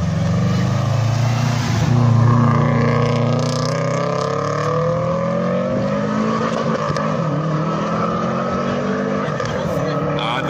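A race car with a DSG gearbox accelerates hard on a track, its engine note climbing loudly through quick gear changes that keep dropping and rising in pitch, with people talking over it.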